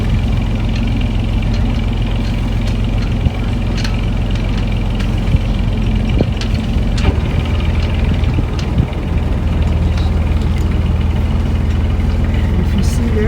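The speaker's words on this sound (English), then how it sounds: "right at the end, you throw the engine into reverse." A boat engine running in reverse churns steadily at close range beside a dock, a constant low rumble with faint knocks and clatters and no change in pace.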